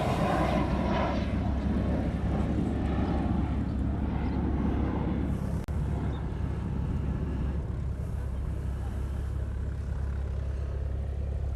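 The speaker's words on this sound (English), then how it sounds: "As soon as I moved the microphone, the plane went to idle." Airliners idling on the ramp at a Hawaii airport, a steady low rumble and whine of jet engines heard at a moderate distance, unbroken and without talk.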